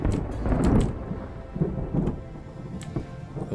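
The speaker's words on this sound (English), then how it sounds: "Why is it thundering so much here?" Thunder rolls loudly over steady heavy rain in the factory-building video game Captain of Industry, with a big rumbling swell early on and softer grumbles after, with no talking.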